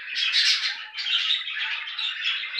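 Harsh, continuous squawking and chattering from several budgerigars in a breeding cage, loud and close, with overlapping calls and no pauses.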